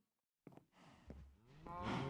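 Cows moo in Minecraft, two or three close, drawn-out lowing calls following a short silence.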